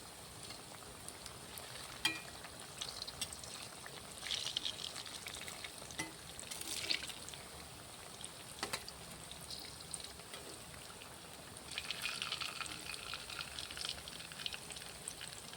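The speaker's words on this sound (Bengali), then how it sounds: "এই ফুলুরিগুলো ভাজার সময় অবশ্যই গ্যাসের ফ্লেমটা মিডিয়াম টু লো ফ্লেমে রাখবেন।" Palm fruit fritters (taler bora) deep-frying in hot oil over a medium-low gas flame, a steady close crackling sizzle with brief louder bursts and spatters throughout, no talking.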